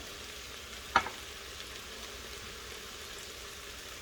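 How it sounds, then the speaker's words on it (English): Sofrito sizzles quietly in a hot pot of oxtails, a low, even hiss throughout with a single brief clatter early on. "I'm going to go ahead and add our sofrito"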